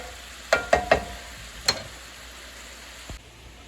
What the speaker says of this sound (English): Let me give it a stir real quick.